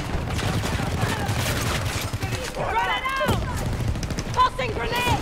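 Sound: VHX gun firing in a video game

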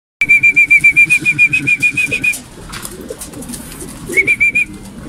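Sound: pigeons cooing at a pigeon loft

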